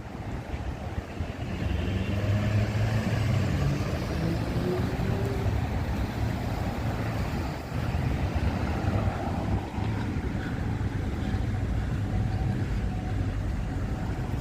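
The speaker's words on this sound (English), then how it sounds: "there's a little bit of a wind. Feel it." Steady wind rushes outdoors at sunset, a constant broadband roar like gusts buffeting a microphone, filling the whole stretch without pause and with no voices.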